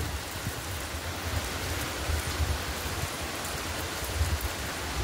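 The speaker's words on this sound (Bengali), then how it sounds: "রাতে হঠাৎ মাত্র কত জোরে বৃষ্টি হচ্ছে, ঝমঝম করে" Heavy rain pouring down at night during a storm with lightning, a steady dense hiss of drops on surfaces with no letup and no voices.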